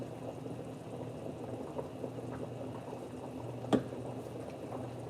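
Sauce pours out heavily into a pot during home cooking, a steady liquid rush with a sharp clatter partway through.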